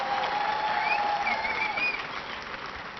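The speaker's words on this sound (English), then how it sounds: "Clap if you do." An audience applauds at an awards ceremony in Atlanta, Georgia. The clapping is a dense, steady patter that stays fairly even for about three seconds and then eases slightly toward the end.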